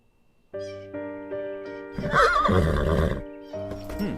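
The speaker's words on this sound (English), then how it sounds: "We have horses." Horses neigh and whinny in a loud series of drawn-out calls, with a busier stretch of overlapping snorting and hoof clip-clop in the middle before another whinny, close and clear without talk.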